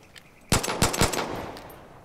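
Far Cry 5 gunfire, a short burst of three sharp, loud shots in quick succession with a brief ringing tail.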